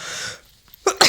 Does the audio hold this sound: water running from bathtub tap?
no